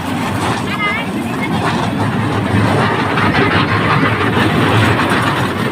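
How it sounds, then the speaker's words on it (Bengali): A train running with a loud, steady rumble and clatter that continues without a break. "এই ট্রেন দেখা থামছে না চলছে চলছে"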